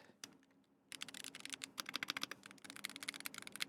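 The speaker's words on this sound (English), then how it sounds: "Here's the last keyboard." Fingers type rapidly on a computer keyboard, one of several keyboards being compared, with crisp clicky keystrokes in a fast, uneven run after a brief quiet start, heard close and alone.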